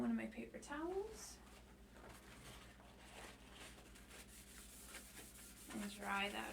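Paper towel wiping a tumbler dry, a soft, close rubbing and scuffing sound that continues steadily, with a person talking briefly at the start and end.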